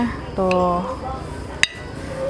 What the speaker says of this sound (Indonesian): Jadi nasi gorengnya ada telurnya ya, kita belah nih telurnya.